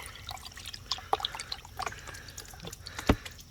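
Water sloshing and trickling as light material washes off a gold pan while prospecting on bedrock: soft splashes, drips and gurgles, fairly close and quiet, with a sharper splash near the end.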